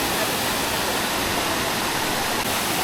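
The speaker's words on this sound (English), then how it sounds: "Nice little waterfall." A small waterfall on the Ha Giang Loop in Vietnam rushes with a constant, full hiss of falling water, heard close up and steady throughout with no voices.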